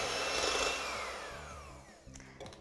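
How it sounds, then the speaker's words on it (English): Electric whisk creaming sugar and butter in a bowl for Easter cookies, a steady close motorised whir with rhythmic clatter of beaters against the bowl, fairly quiet and alone. "Now I am using an electric whisk because I'm being lazy"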